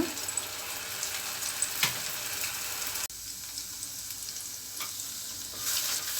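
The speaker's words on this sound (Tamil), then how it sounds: "அதனால் எண்ணெயில் நல்லா வதக்கிக்கிடுவோம்" Ground masala paste sautéing in hot oil for chana masala, a steady close sizzle and frying hiss with occasional stirring scrapes, no talking.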